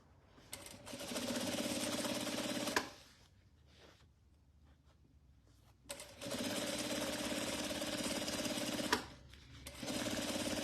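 A sewing machine stitches the fabric lining of a crossbody bag in two long, loud, even runs, each lasting a few seconds and separated by a pause with faint handling sounds.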